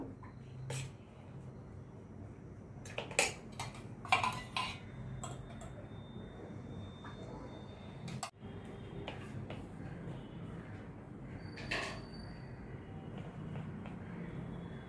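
Spoon scraping and clicking against a bowl while potato stuffing masala is mixed with refined oil, quiet scattered taps and brief knocks over a low steady room hum.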